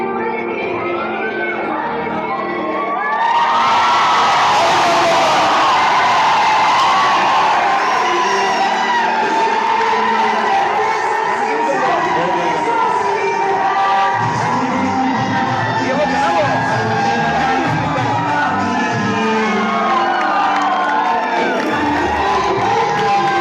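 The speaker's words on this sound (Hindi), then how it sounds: "ताली बजाओ जोरदार।" A large rally crowd at a political coaching-centre event in Barwala roars with sustained cheering, shouts and clapping, loud and continuous after a brief quieter opening.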